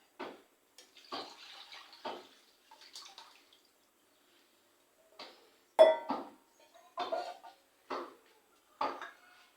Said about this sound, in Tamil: அந்த புளிக்கரைசலை இதில் சேர்த்திக்கலாம்.